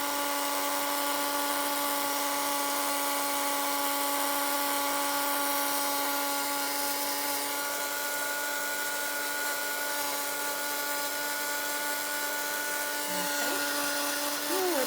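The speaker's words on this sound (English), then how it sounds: "Let's just quickly heat emboss that." A heat embossing tool melts clear embossing powder on stamped paper, giving a steady, close electric whine with a fan hiss that holds evenly throughout.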